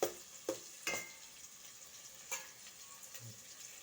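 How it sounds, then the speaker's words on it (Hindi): Whole spices tempering in hot oil on a low flame for chhole, with soft sizzling and a few sharp crackles and pops scattered through a quiet background. "ये देखिए मेरा बघार हो गया है।"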